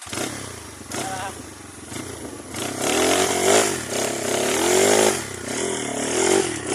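A motorcycle engine revs up close, rising and falling in repeated surges with a rough, rattling tone, and voices can be heard talking over it.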